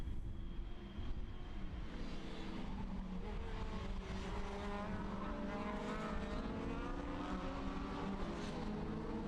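Superkarts race down the back straight at Anglesey International in a British Superkart Championship race, several engines blending into a steady, distant droning roar with rising and falling pitch sweeps, no talk over it.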